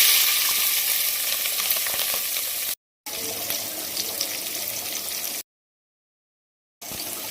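Onions and green chillies sizzle in hot oil in a pan for a mutton curry and bagara rice, a steady close crackling broken by two short silent gaps.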